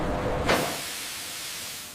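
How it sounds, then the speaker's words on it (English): A steam valve in a strawberry processing factory releases a loud, broad hiss that begins abruptly and sustains steadily, filling the space with a continuous rush of vented steam. "Steam valves open periodically to maintain safe operating pressure."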